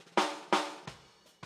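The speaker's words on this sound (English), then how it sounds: "Then I got a snare bottom that sounds like this." Four close snare drum hits from the bottom mic, sharp and rattly with a natural ring, the last one softer, each decaying quickly before the next.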